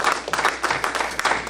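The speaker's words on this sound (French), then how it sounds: "Je veux que nous applaudissions" An audience at a church service claps for a reverend, a short burst of lively, rhythmic applause with faint voices underneath.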